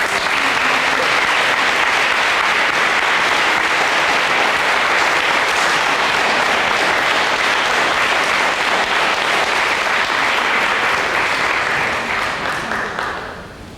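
A school awards night audience in Port Huron gives honoured students sustained, dense applause, loud and even for over ten seconds before tapering off at the end.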